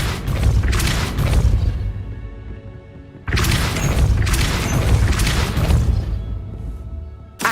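Depulso spell effects in the video game Hogwarts Legacy: two heavy, booming magical blasts with crashing debris-like bursts, each swelling loudly and fading, with no talk.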